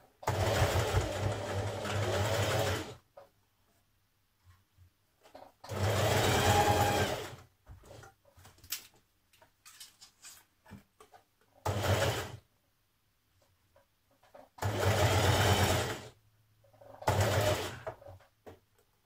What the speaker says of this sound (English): So here we are, ready to top stitch all the way around.